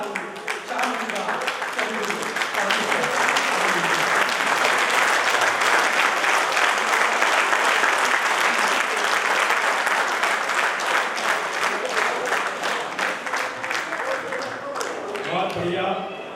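An audience at a Hindi poetry gathering (kavi sammelan) applauds after a poem recital, with full, dense clapping that swells and holds strongly for about fifteen seconds, then thins out near the end.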